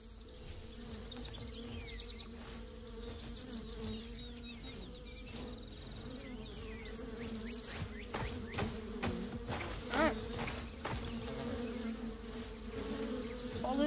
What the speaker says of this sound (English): I hear the bees. I don't see them. They must be off the path somewhere.